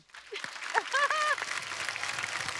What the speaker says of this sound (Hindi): इसके लिए एक बार जोरदार ताली हो जाए